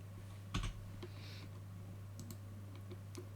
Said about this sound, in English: And I'm going to type in Edith R. Honey